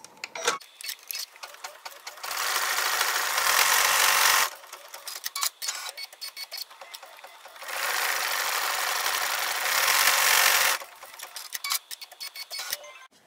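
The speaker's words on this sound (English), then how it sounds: "we're going to stitch the tassels fringe stitches" An embroidery machine stitching tassel fringe stitches runs in two loud, steady whirring bursts of a few seconds each, separated by quieter stretches of clicking and ticking from the mechanism.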